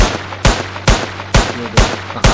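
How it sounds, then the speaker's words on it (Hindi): Pistol gunshots in the video game Indian Bikes Driving 3D: six sharp, loud cracks fired at an even, quick pace, each with a short tail, with no talking. "अभी हम पिस्टल से मारते हैं"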